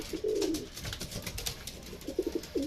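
A racing pigeon at a derby loft coos in short soft phrases near the start and end, over a steady outdoor background without talk.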